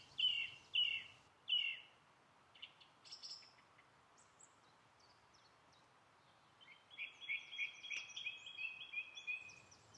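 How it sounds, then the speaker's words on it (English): Song thrushes sing in the morning along a national trail, with clear repeated whistled phrases, three bright notes at first, then scattered calls and a rapid run of chirps, fairly distant over a quiet background. "woken up by song thrushes the next morning"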